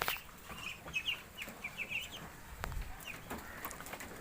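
Two-month-old Chinese ducklings on an Assam farm give bursts of thin, high peeping calls, several in quick clusters, fairly faint amid light rustling and soft knocks.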